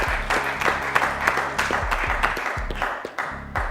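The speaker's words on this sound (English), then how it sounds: "Let's give a huge round of applause to Shaq, ladies and gentlemen." A studio audience claps for a contestant named Shaq on a Ugandan school quiz show, the applause steady and fairly loud, with low tonal music running underneath throughout.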